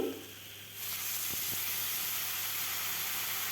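Hot water poured into spiced taro curry frying in a pan bursts into a loud, sustained hiss and sizzle that fills the rest of the moment after a quieter start.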